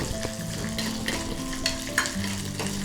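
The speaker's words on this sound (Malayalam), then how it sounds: "ഇതാ അണ്ടിപ്പരിപ്പ് വറുത്തെടുക്കുക." Cashew nuts frying in ghee for oats payasam, a steady close sizzle with scraping stirs and occasional sharper clinks of the spoon against the pan throughout.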